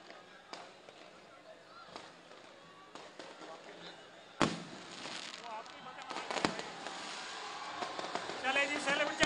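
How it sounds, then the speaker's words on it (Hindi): Fireworks crack and pop at an outdoor election victory celebration in Lahore, sharp bangs scattered among a noisy crowd with people talking and shouting throughout. "आतिशबाजी कर रहे हैं, बराए मेहरबानी ना करें।"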